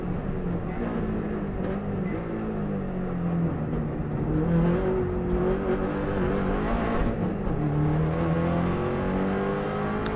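A Subaru WRX STI at full speed on an Isle of Man road course growls steadily up close, its engine note sliding lower as the car slows and shifts down into second gear.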